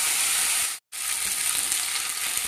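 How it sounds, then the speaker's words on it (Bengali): Ginger paste frying in hot oil in a home kitchen pan: a steady bright sizzle, close and loud, broken by one brief silent gap before the hissing resumes. "এবার আদাটাকে তেলের মধ্যে একটু ভেজে নেব।"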